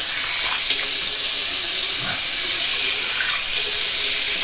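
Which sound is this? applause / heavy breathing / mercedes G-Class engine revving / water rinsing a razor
water rinsing a razor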